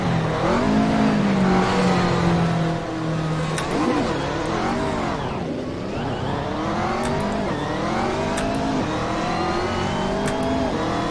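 A race car engine in Assetto Corsa revs loud and steady, rising and falling through gear changes as the car accelerates and brakes, with a constant droning whine throughout and no voices.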